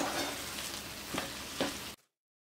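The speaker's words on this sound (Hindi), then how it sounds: "पालक बेसन की सूखी सब्जी को पकते हुए लगभग 2 से 3 मिनट और हो गए हैं। तो एक बार अच्छे से मिक्स कर देती हूँ।" Spinach and gram flour sabzi sizzles in a pan, a close steady frying hiss with a couple of soft scraping stirs, then cuts off abruptly.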